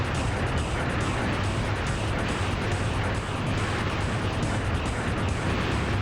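Continuous dense rumble of explosions and destruction from the GC9x Destruction Carnival video game, a loud unbroken wash of blasts with no clear gaps.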